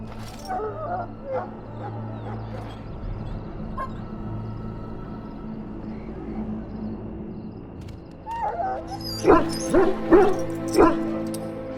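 A dog in Dragon Age Origins barks and yips in a burst of loud, close calls toward the end, after a stretch of low rumbling game ambience.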